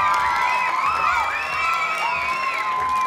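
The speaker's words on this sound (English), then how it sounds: "One more big round of applause for our shaveys today." A crowd of children cheers and whoops at a St. Baldrick's head-shaving charity event, their overlapping high voices rising and falling together in a lively, sustained roar with little clapping audible.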